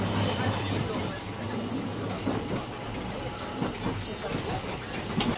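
Local train departing Osaka Station, a busy carriage with many passengers: a continuous low rumble and hiss of motion with faint clicks, fairly quiet, with a voice speaking over it.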